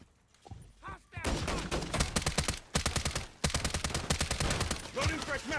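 Rapid bursts of automatic gunfire in a military shooter video game crackle loudly, with short pauses between volleys and voices speaking in the game.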